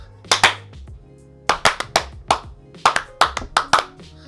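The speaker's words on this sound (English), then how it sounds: "I clapped." Sharp hand claps in quick bursts, a pair and then several rapid groups, close and loud over a faint low hum, with no speech.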